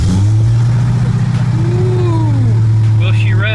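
A minivan fitted with a swapped Hellcat engine idles with a deep, steady rumble, then revs upward in a rising pitch sweep before settling, while people talk excitedly nearby.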